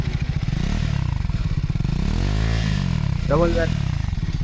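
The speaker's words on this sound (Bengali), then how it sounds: "আর তোমরা শুধু বাইকের এক্সজস্টটা শুনো একবার" A motorcycle engine thrums through a double-barrel exhaust with a deep, pulsing note that swells and settles, loud and close, with a brief higher whine near the end.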